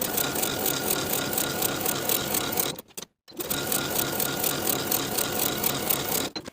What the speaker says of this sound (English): we're going to top stitch both front pieces from the shoulder seam, pivoting at that center front point all the way to the bottom